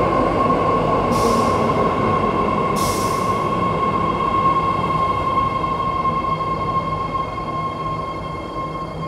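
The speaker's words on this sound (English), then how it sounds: "On my right side, there's a new train called 3 door free in the future" A new three-door Dublin metro train rumbles steadily as it arrives at a platform with a constant electric hum, two short hissing bursts of air early on, and the noise easing slightly toward the end.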